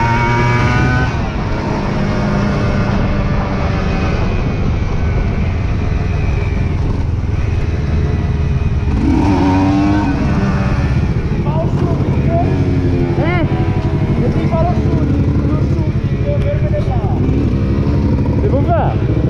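Aprilia RS 125 motorcycle ridden at top speed on a ride around a lake, its engine a loud, close drone with rising and falling pitch sweeps as it revs through gears, under constant wind rush.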